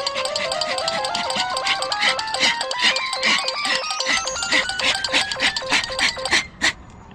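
A mobile phone plays a bright stepped ringtone melody over rhythmic clicking beats, loud and close, cutting off near the end.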